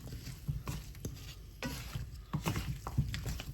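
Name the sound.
mixing potatoes and carrots with seasoning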